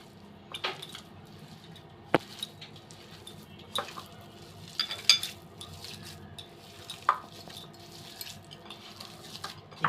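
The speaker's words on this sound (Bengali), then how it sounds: "সব কিছু হাত দিয়ে ভালোভাবে মিশিয়ে মেখে নিব" Hands kneading and mixing a chicken kebab mixture with spices, salt and roasted gram flour, giving soft squishing and sticky slapping sounds with occasional sharper knocks against a bowl, fairly quiet and close.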